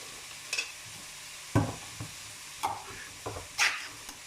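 Food fries in a pan over medium-high heat beneath a soft steady sizzle, with several distinct scraping stirs and clatters at irregular intervals.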